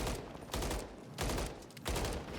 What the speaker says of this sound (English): All you want to do is shoot a few bullets